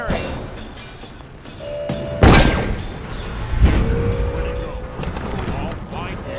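Gunfire in the stealth video game Dishonored, with sharp loud shots cracking out amid shuffling action noise while voices talk over it.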